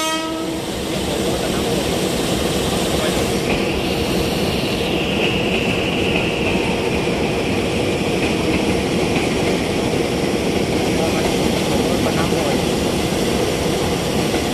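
A loud, continuous rumble of a commuter train to Bogor rolling past at Gambir station, with a horn tone briefly sounding early on and voices faintly underneath.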